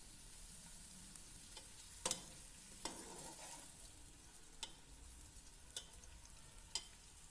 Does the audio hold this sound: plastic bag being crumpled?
no